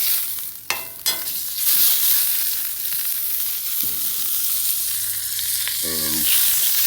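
Bacon grease sizzles hard in a smoking-hot pan for chuck roast steaks, a loud, steady, close crackling hiss, broken by a couple of sharp knocks early on and a short tonal clatter near the end.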